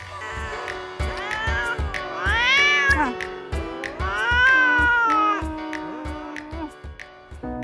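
A fierce cat meows and yowls in long, rising and falling wails, close and loud. A fast steady tapping rhythm runs under the cries.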